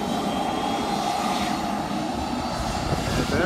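Steady, loud roar of Cessna Citation business jet turbine engines running close by, a dense continuous whine and rumble that holds level throughout with no talking.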